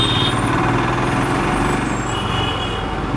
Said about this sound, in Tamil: This is Kengeri traffic jam.